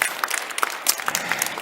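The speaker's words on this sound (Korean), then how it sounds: "우리 박수로 하나님께 영광 올리겠어요." A church congregation claps together in a worship service, a short burst of applause with scattered sharp hand claps, fairly close and filling the room.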